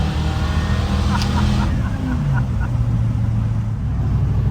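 A 1957 Chevy's engine drones steadily from inside the cabin, a low rumbling hum with road noise, loud and continuous throughout.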